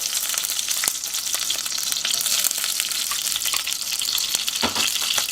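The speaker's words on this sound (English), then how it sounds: "we're going to put some of that cleared butter inside, let that melt" Clarified butter melting in a hot iron skillet over medium heat gives a steady, bright sizzle with scattered small pops and crackles, heard alone at moderate loudness.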